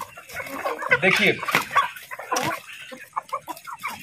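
An Asil rooster clucks and calls in short, uneven bursts near the listener, with someone speaking over and between the sounds.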